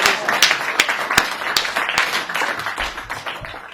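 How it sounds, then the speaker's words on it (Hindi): An audience claps to welcome the poet Sanatan Singh on stage at a Hindi comedy poetry gathering, a dense burst of applause with sharper individual claps standing out and a voice faintly mixed in. "जोरदार तालियां सनातन सिंह"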